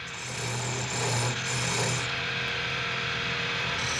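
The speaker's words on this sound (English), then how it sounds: "In scraping, the tool is held at right angles to the timber." Wood being scraped on a lathe while making a traditional Irish spinning wheel, the tool held at right angles to the timber, giving a steady close rasping drone with a faint low hum underneath throughout.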